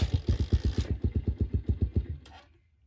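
A motorcycle engine idles in a steady, loud, close rhythmic putter of even pulses, then cuts out and fades to near silence just before the end.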